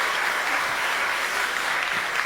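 A live audience at a Hindi poetry show claps for a poet, a dense, loud, continuous wash of applause that holds steady from start to finish without a break.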